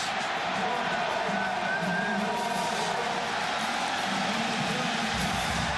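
A college football stadium crowd at a South Carolina vs. Tennessee game cheers in a dense, steady roar, loud and unbroken for the whole stretch, with a commentator's voice faintly underneath.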